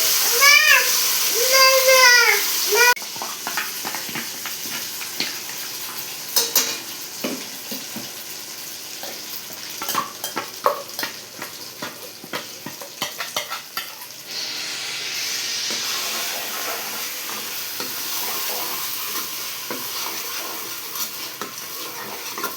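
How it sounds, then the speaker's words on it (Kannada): Ground masala paste fries in hot oil for masala puri, a sizzle under steady stirring and scraping of a spoon against the pan. A voice talks over part of the cooking. "ಈಗ ನೋಡಿ ನಾವು ರುಬ್ಬಿರುವಂಥ ಮಸಾಲೆನ ಚೆನ್ನಾಗಿ ಫ್ರೈ ಮಾಡ್ಕೊಂಡ್ಬಿಡೋಣ."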